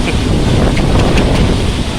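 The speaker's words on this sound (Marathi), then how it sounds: "सगळं वारा जबरदस्त सुटला आहे" Loud, steady roaring wind of a storm in a village, buffeting the microphone, a dense rumbling wash with no break and no voices.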